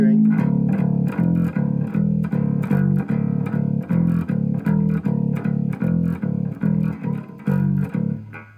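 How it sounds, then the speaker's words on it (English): A distorted electric bass chugs out a steady run of repeated low notes in an even rhythm, loud and gritty, fading at the end. "for the last one you want to kick a little bit of distortion on if you want."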